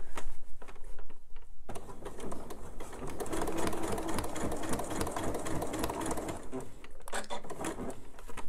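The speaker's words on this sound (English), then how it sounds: "I can pivot with the needle in the down position and then rearrange my purse so that I can sew up the other side" Domestic sewing machine stitching up the side seam of a fabric purse made for a metal purse frame, a steady close whirring run with brief stops and restarts, no voices.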